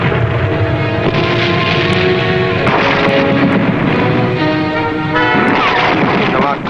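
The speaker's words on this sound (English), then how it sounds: "poured a stream of gunfire at the submarine" Gunfire from a naval vessel aimed at a submarine, rendered as loud dense booming and rapid shots blended under a full dramatic music score, continuous and close throughout.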